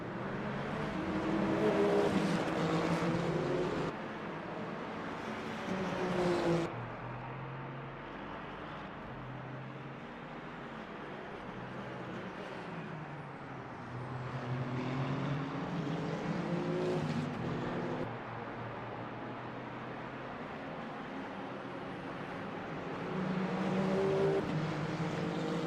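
Ferrari and Toyota race cars in Le Mans Ultimate at Bahrain: high-revving engines drone and whine steadily, swelling and fading as they pass, with downshifts under braking and a continuous roar throughout.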